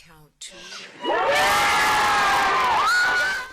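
Crowd on the street outside a courthouse erupts in loud, sustained cheering and shouting after a guilty verdict in a police killing trial, swelling suddenly and holding for a few seconds after a brief voice.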